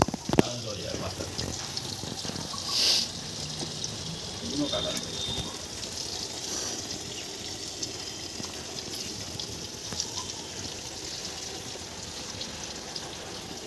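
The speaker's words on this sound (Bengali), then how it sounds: "আলুগুলো দেওয়া হয়েছে, এবার আলুটা ভাজা হবে।" Large potatoes fry in a pan for chicken curry, giving a soft, steady sizzle and crackle throughout, with occasional clinks and faint voices nearby.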